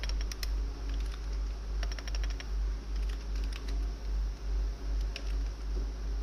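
HTML code is typed on a computer keyboard in a rapid, uneven run of close key clicks over a steady low hum, with no speech.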